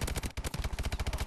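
Rapid automatic gunfire from a gun in a video game, a steady close stream of evenly spaced loud shots with one brief gap.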